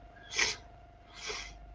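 Two breathy sneeze-like bursts about a second apart, the first sharper and louder, the second softer, against a quiet room hum with no talking.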